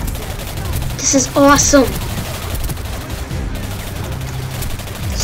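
Machine gun fire from the video game Singularity rattles steadily under a game soundscape, with a short burst of speech over it partway through.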